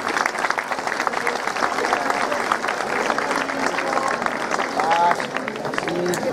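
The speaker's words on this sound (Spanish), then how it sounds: "Un fuerte aplauso para Sara Pérez Concepción." Strong applause from an audience at a local fashion show of vintage 1950s dresses in La Galga, a loud dense wash of clapping throughout with crowd murmur mixed in.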